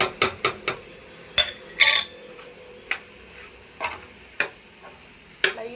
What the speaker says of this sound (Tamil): இதையும் இதிலே போட்டு எல்லாத்தையும் ஒன்றா வதக்கிக்கலாம்